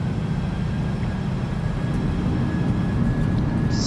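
Roaring, steady engine rush of a PMDG 737-800 with thrust reversers deployed on landing in MSFS 2024, loud and broadband low rumble held throughout without voices.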